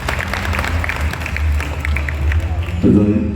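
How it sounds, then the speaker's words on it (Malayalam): An audience at a Malayalam film association gathering applauds, a steady wash of clapping and crowd noise mixed with a speaking voice, swelling slightly louder near the end. "നല്ലൊരു കയ്യടി"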